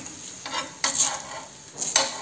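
Akki rotti sizzling on a hot pan as it is flipped, a soft frying hiss broken by two or three short scraping clatters of the spatula.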